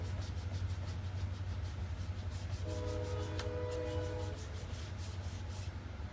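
A train passes at a distance behind a steady low rumble, with a brief horn-like tonal sound in the middle and a continuous loud hum throughout.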